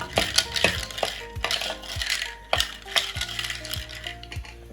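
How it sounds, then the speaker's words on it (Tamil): Cinnamon sticks dropped into a hot dry pan and turned during roasting, with a series of light woody clatters and taps at an uneven rhythm, close and fairly quiet, no voices. "சட்டி நல்லா காஞ்சிருச்சு இப்போ பட்டை சேர்த்துடலாம் சேர்த்துட்டு பொன்னிறமாக வர வரைக்கும் வறுத்துக்கலாம்"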